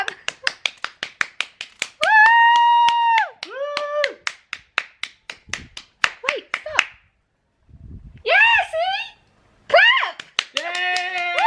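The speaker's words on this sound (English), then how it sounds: "So we're doing the clap for carers." Hands clapping in a rural outdoor clap for carers at 8 pm, a close, steady run of sharp claps broken by bursts of excited voices and a dog barking, the claps resuming between the voices.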